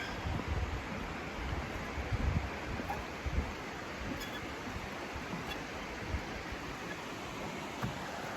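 A river flows beneath a suspension bridge on the Appalachian Trail, a steady broadband rush of water with light wind, continuous and fairly near, with no talking.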